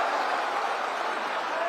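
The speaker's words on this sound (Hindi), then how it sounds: "महिषादल के प्रत्याशी सुभाष पांजा जी के लिए जोर से ताली बजाओ जरा" Crowd at a political rally in Bengal clapping for a candidate, a continuous wash of applause and crowd noise at moderate volume with no distinct speech.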